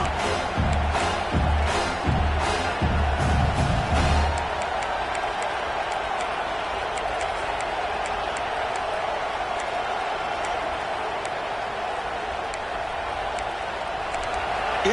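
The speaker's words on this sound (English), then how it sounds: "It's early, but this crowd is fired up. Listen to this noise here." Stadium crowd at a South Carolina vs Ohio State college football game, a loud, continuous roar that fills the air, with heavier thumping bursts in the opening seconds before settling into a sustained wash of noise.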